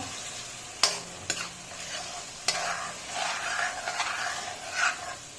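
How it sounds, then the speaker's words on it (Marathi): Green chili paste fries in oil for a crab curry, a soft continuous sizzle broken by a few sharp scrapes and taps of a spoon stirring the masala in the pan, close and moderately quiet. "हिरव्या मिरचीची पेस्ट हे छान असं परतायचं"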